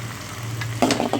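Tomatoes sautéing with onions in a pan for a Karamani karakulambu, giving a steady close sizzle with a low hum underneath and a few louder scraping stirs near the end.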